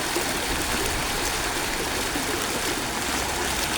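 A stream of water flows continuously near a house, a dense, even rushing and gurgling that stays loud and close throughout, with no voices.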